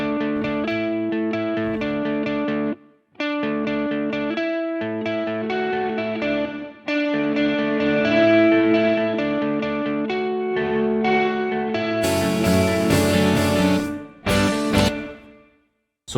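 Electric guitar playing chords and single notes, first with a dry tone, then with lush reverb that makes notes linger and decay after each phrase.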